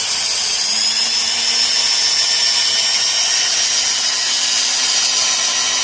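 A cordless drill fitted with a polishing pad spins against a plastic headlight from a Daewoo Lanos 1.5, producing a loud, steady, close whirr that holds constant throughout, with no talking.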